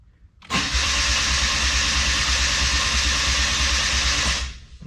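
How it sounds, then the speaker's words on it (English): A Suzuki Cappuccino engine running a Microsquirt ECU cranks without catching. The starter whirs loudly and steadily for about four seconds, then cuts off. "go over to the driver's side and do some cranking and see what we get"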